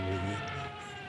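A brief, steady siren wail from a diving German dive bomber holds a sustained pitch, loud and droning, with no talking.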